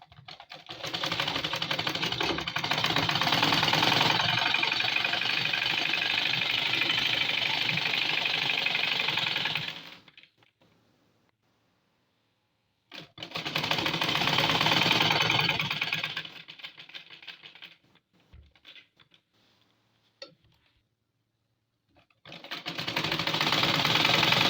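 An electric sewing machine stitches gathered pleats on a small child's frock, running in loud, rapid, continuous bursts several seconds long, separated by near-silent pauses and a few faint clicks.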